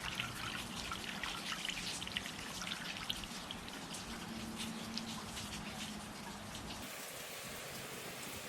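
Ready-to-use deck cleaner for dirt, mold and mildew pours into a container outdoors in rain, a steady hissing stream blended with rainfall, with no talk.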